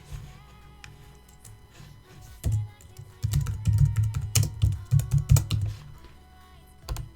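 Rapid clatter of typing on a computer keyboard, bursts of keystrokes with short pauses, fairly close and loud, with no speech over it.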